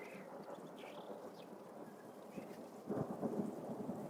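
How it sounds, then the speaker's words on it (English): Rolling thunder with steady rain, a low rumble running throughout and swelling louder near the end, used as an effect within a music cover. "Let me play the thunder sound so you can hear what it sounds like."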